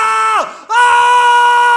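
A man's scream in a dramatic audio story, loud and sustained at first, then dipping and breaking off briefly before a second strained, steady cry takes over. No speech alongside.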